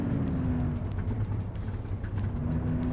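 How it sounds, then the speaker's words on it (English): An old car engine in the video game The Precinct idles and rumbles steadily at low pitch, a near, continuous drone with a faint tonal hum throughout and no talk over it. "Aw, that old engine sound"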